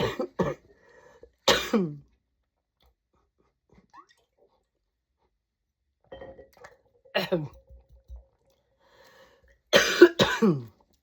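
Several separate coughs and throat clearing, near and fairly loud, broken by quiet pauses, with a faint clink of a glass between them.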